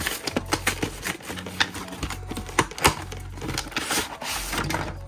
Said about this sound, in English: So let's go ahead and rip right into it here.